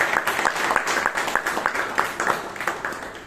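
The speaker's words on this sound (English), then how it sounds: "A big round of applause to Toastmaster Shreyas as well as the speaker" A small group at a Toastmasters club meeting claps for the speakers in a short, fairly close round of applause with a quick, even rhythm of distinct claps.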